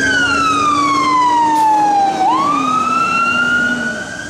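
An ambulance siren wails loudly on a street, with a long descending tone that dips and then rises again as the vehicle passes close by, heard alone without talking.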